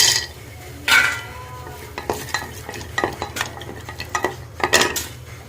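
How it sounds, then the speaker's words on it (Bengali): Mixed nuts frying in ghee in a pot, with a low steady sizzle beneath repeated scraping and clinking of a spoon stirring against the metal, several sharp knocks spaced irregularly. "বাদামগুলো ভেজে নেব।"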